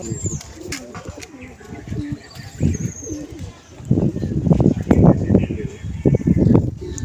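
Pigeons coo repeatedly in a loft, the calls loud and close in a busy flock, with wing flutters and a voice talking underneath.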